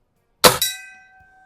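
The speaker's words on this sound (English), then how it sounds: "Nice 22 caliber, hits that gong nice." A single sharp metallic clang as a .22 caliber bullet from a Cometa Fenix 400 strikes a steel gong, followed by a bright ringing tone that decays over about a second.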